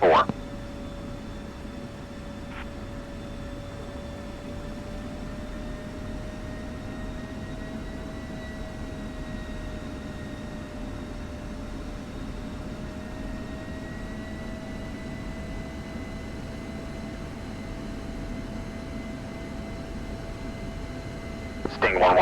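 Steady F-16C jet engine drone in the DCS flight simulator, held at a constant roar with a stable whine through the whole stretch on the runway before takeoff roll, with faint radio chatter.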